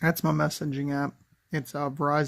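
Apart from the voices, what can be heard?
No distinct noise like a dog, phone or traffic.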